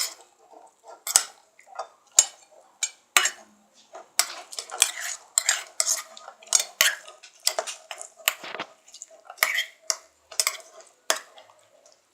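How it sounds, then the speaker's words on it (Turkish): Homemade slime being stirred in a container, with scattered clinks and scrapes of a utensil against the sides, close and irregular with no talking. "Karıştırmaya devam ediyorum."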